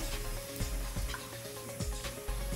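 Wheat sweet bonda batter fries in hot oil, a steady close sizzle with soft bubbling and a few low thumps as spoonfuls drop in, with no talking.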